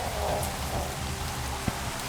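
Steady heavy rain pours down outdoors in a continuous broadband wash, with one brief louder drop or knock partway through and no voices.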